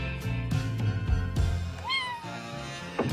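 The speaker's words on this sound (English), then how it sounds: "kittens make everything better" A kitten gives a single short, rising-then-falling meow, close and clear, over a background of thumping, rustling kitchen-counter handling noises.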